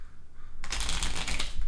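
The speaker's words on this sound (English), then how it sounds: "I'm shuffling the deck." A deck of playing cards shuffled for a Texas Hold'em poker game: after a short quiet lead-in, a dense, close riffling burst runs continuously for about a second, with no talk.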